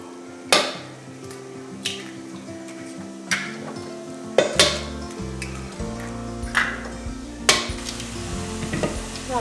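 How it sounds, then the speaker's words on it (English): Eggs, about eight to ten medium-sized, whisked and scrambled in a bowl with a utensil, giving repeated clinking scrapes and taps that recur every second or so, close and fairly loud with no voices. "I'll just scramble them up."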